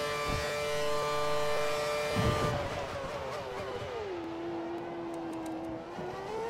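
Formula One car engine in the F1 2013 racing game on the Bahrain circuit, a loud high-pitched whine that drops through downshifts into a corner, then holds and climbs again on exit, steady and close.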